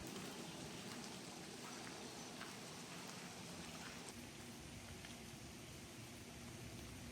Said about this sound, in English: you can still hear it's raining a little